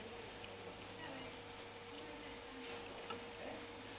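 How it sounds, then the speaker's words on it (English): Water pours into a pan of Spanish salt cod fish stew, a soft continuous splashing trickle that is faint and steady for a few seconds with no voices. "We then add a little water."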